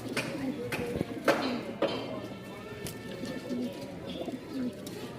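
A pair of Lahori pigeons, a hen and a cock in full mood, coo repeatedly in soft low pulses close by, with a few sharper bird calls and someone talking over them.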